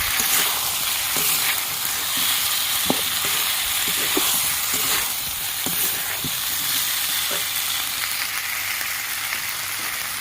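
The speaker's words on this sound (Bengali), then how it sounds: "ভেজে রাখা সবজিগুলো দিয়ে দিচ্ছি ভালো করে কষিয়ে নেব" Fried vegetables stir-fried in oily spice paste for a fish curry, a loud continuous sizzle with occasional clacks of a spatula against the pan.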